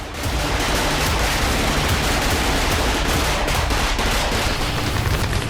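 Dense, continuous gunfire in a combat zone fills the whole stretch, rapid overlapping bursts at steady loudness, sounding like sustained automatic weapons fire.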